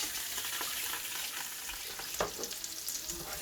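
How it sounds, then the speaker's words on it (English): Zucchini cutlets fry in a pan, a soft continuous sizzle with faint crackles and one brief clink, heard alone and fairly quiet. "Our second batch of cutlets is on to cook here."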